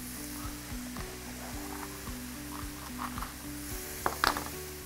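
Chicken pieces sizzle steadily in a hot pan while cooking a creamy mushroom chicken dish, a soft continuous crackle with a few sharper pops near the end over a faint low tonal hum.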